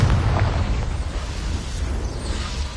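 A Confringo spell blast in Hogwarts Legacy, a single heavy explosive burst with a deep rumbling tail that slowly fades over a few seconds.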